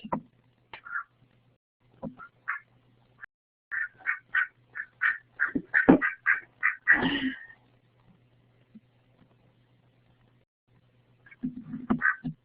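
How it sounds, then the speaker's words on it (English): Male Pekin duck quacking indoors in a lecture room, a string of short raspy nasal quacks in quick runs, then a pause and another brief burst, close and clear against near silence. "This is our male Peking duck."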